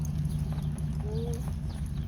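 Horse hooves clip-clopping at a standstill-to-side-pass riding lesson, soft steady steps over a constant low hum, fairly faint and close.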